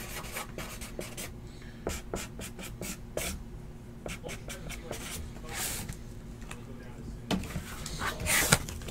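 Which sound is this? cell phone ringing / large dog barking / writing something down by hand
writing something down by hand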